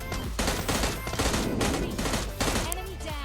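Rapid bursts of gunfire from the PUBG Lite battle royale game, with dense overlapping shots in quick fusillades and loud sharp cracks throughout, including a bolt-action AWM rifle, with no speech.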